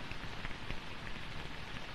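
Steady rain pours down outdoors in a heavy, continuous hiss of drops striking surfaces, close and even throughout with no voices.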